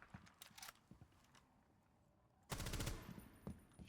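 Rapid bursts of automatic gunfire in Rainbow Six Siege, with scattered shots early on, a short lull, then a loud sustained volley that dies off near the end.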